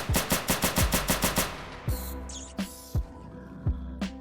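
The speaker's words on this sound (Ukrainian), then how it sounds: "Диви, в якому стані пушка і куди вона стріляє." A machine gun in the video game S.T.A.L.K.E.R. Lost Alpha rattles in a fast automatic burst, then gives way to a few scattered single shots with pauses between them.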